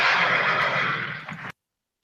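A horse neighs as a comedy sound effect, one long loud whinny that fades out and then cuts off abruptly into silence.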